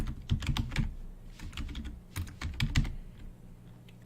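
Code being typed on a computer keyboard during a beginner lesson on lighting an LED, close bursts of rapid key clicks separated by short pauses.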